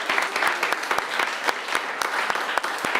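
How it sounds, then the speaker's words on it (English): An audience at a B2B marketing awards event applauds a winner joining live on Zoom, a loud, continuous wash of many clapping hands with sharp individual claps standing out, no talking over it. "Give Lydia a massive round of applause."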